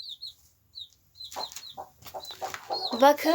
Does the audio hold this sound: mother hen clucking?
yes